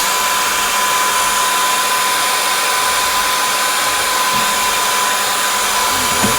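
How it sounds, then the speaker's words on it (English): A handheld hair dryer blows hot air onto a Rubik's cube, producing a loud, steady whine and rush of air that holds constant throughout at close range. "So I have a hairdryer. Let's try this."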